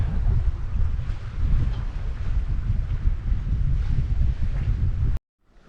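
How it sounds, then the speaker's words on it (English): A sailboat sailing downwind with its engine off, a steady rush of wind over the microphone and water washing along the hull, continuous and fairly loud before cutting out abruptly. "engine off, sailing downwind"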